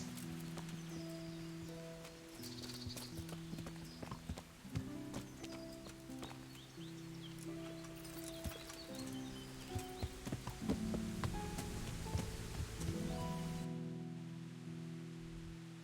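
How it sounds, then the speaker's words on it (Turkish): Horse hooves clip-clop in the medieval video game Kingdom Come: Deliverance, a steady run of light knocking steps under sustained background music for about sixteen seconds. "Atı çağır atı."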